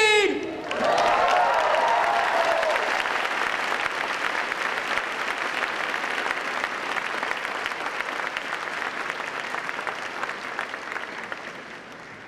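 A commencement crowd at a high school graduation breaks into applause, starting abruptly after a brief tone and carrying on as a broad, even roar of clapping with faint cheering, gradually easing off toward the end.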